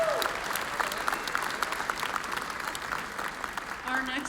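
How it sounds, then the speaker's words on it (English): Audience applause for a judge at the Miss Indian World 2019 pageant in Albuquerque, a steady wash of clapping for about four seconds with a voice briefly heard near the end. "Let's give her a round of applause"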